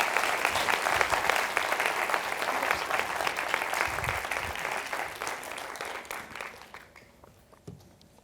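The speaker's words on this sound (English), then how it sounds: "You can clap now." A lecture audience claps after a talk on culturally appropriate HIV prevention, the steady, full applause lasting several seconds before thinning out and fading toward the end.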